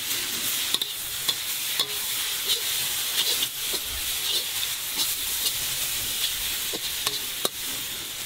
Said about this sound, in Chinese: 大火快炒